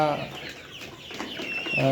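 Layer pullet chickens in a poultry shed, several birds clucking and squawking close by in short overlapping calls, with a louder call at the start and end.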